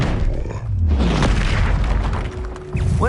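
Fire spell cast in Hogwarts Legacy, a loud rumbling burst of flame with a deep low whoosh that swells and sustains, ending with a brief rising tone, no voices.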